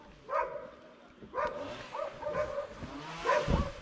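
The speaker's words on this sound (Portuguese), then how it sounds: "E tem muito, muito cachorro nessa cidade." A dog barks three times in Caleta Tortel, a seaside town in Chile built on boardwalks. The sharp barks are spaced a second or two apart over steady outdoor noise and faint traffic.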